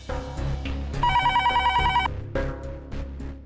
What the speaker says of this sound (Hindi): फोन है।